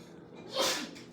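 One close sneeze, a quick breathy burst lasting under half a second amid quiet.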